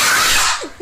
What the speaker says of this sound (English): she's about to sneeze